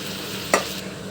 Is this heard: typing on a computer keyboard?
no